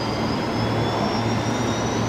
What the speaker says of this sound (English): I can hear a Fokker on startup for sure, but I cannot see it.